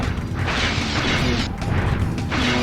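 Giant icicles crashing to the ground in Crash Bandicoot 2: a couple of heavy booming impacts with crunchy, glassy bursts in close succession over a busy game soundscape.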